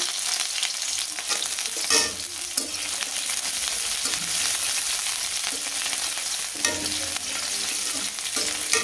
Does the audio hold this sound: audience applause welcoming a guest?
no